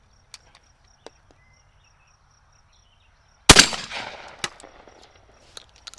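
A 1902 Remington No. 9 shotgun fires once at a plate rack outdoors: a single loud, sharp blast with a decaying echo, followed by a faint metallic ping and a few light clicks in otherwise quiet surroundings.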